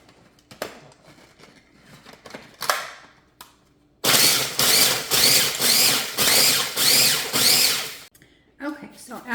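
Food processor chopping Oreo cookies into crumbs, a loud whirring roar in several pulsed bursts of about a second each, starting after a few quiet clattering sounds and fading into softer rattling at the end.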